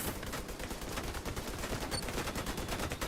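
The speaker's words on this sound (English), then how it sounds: "Everybody stop shooting now." Rapid video game gunfire, a dense run of sharp shots packed close together at a fast, steady rhythm, loud and continuous for the whole stretch with no voices.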